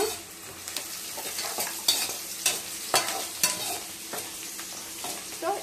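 Carrots are stirred into vegetables frying in a pan, giving a steady sizzle broken by repeated scrapes and knocks of a spoon against the pan, close and alone.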